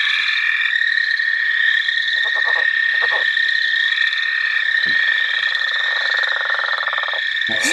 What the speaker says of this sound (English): That snore is the leopard frog.